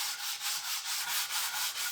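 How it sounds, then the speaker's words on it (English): Fine 120-grit sandpaper is worked by hand over a wooden shelf-sitter piece in quick, regular back-and-forth strokes, a soft, airy rasp pulsing at a steady rhythm with no talking. "Go back over it with my 120. This is my fine grit."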